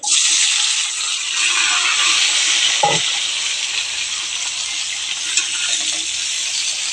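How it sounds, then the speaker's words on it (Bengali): Potatoes frying in oil left over from frying fish hiss loudly and steadily up close, with one brief clank of a utensil partway through and no talk. "এই মাছ ভাজার তেলেতে আলুগুলো ভেজে নেব"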